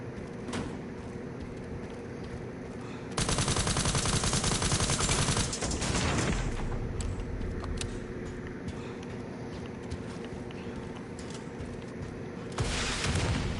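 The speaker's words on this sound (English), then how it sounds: "I need to stop shooting so much" Bursts of gunfire in Resident Evil 9, with sustained loud volleys of rapid shots and heavier booms between quieter stretches of ambience, then another burst near the end.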